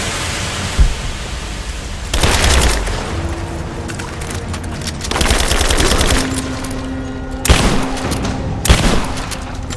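Sustained bursts of automatic gunfire in Rise of the Tomb Raider, several loud rattling volleys separated by short gaps, with single sharp shots cutting through a steady background roar.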